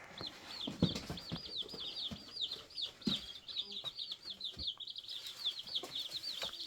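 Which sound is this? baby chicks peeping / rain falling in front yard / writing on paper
baby chicks peeping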